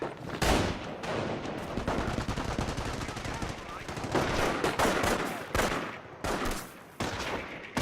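Sustained machine gun fire from the Company of Heroes World War II strategy game, dense loud rapid bursts with brief gaps and short pauses, mixed with other battlefield gunfire.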